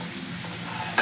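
Methi chutney stirring and roasting in a pan with eggs added nearby, a steady soft sizzle with stirring scrapes running throughout, then a brief louder clatter right at the end.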